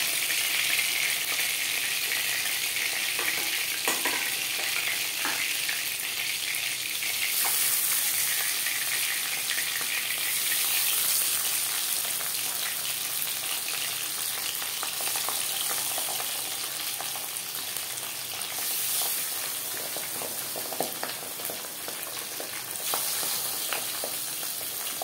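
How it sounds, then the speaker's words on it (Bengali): Pabda fish frying in hot oil for a vegetable curry, with a steady, loud sizzle and crackle that runs unbroken throughout, with no voices. "পরের মাছ একইভাবে ভেজে নেব।"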